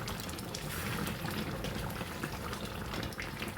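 Chicken curry bubbling in a pot, a soft, steady simmer of close wet bubbling and popping with no talking.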